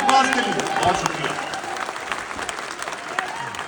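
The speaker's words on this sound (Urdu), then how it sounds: "تالیاں بجا دیجیے التمش عباس کے لیے." Audience applause for poet Altamash Abbas at a Jashn-e Hindustan poetry event, a dense steady crowd clapping that stays loud throughout the short stretch.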